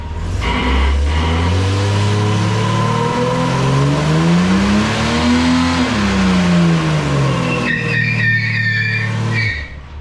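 A Nissan R31 Skyline TI revs hard while spinning both rear wheels, the engine note climbing and falling over ten seconds with continuous loud tire roar close by.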